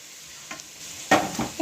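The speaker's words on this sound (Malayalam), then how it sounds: "ആ പാത്രത്തിൽ നമ്മൾ കുറച്ച് വെളിച്ചെണ്ണ ഒഴിച്ചിട്ടുണ്ട് ഇനി ഇതിലേക്ക് നമുക്ക് സവാള ഇട്ട് കൊടുക്കാം" Onion dropped into hot coconut oil in a pan, a faint hum and light taps giving way to a sudden louder burst of sizzling and stirring, close and without talk.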